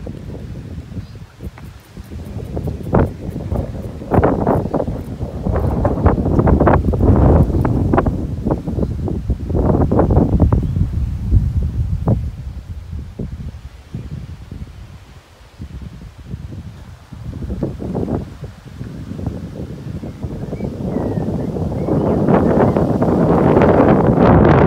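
Steady wind buffets the microphone while riding a classic Gazelle Dutch bicycle through English countryside near a canal, a loud continuous rumble that surges and eases, with a brief calmer stretch midway.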